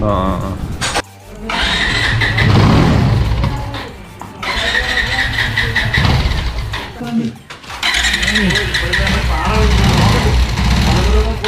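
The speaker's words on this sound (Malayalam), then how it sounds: "എല്ലാം സെറ്റ് വണ്ടി സ്റ്റാർട്ട് ചെയ്ത് ഭയങ്കര സൗണ്ടായിരുന്നു." A 220 motorcycle engine with freshly reworked carburetor starts and runs loudly, a rough, throbbing idle with revving surges and brief dips, close up, with someone talking over it.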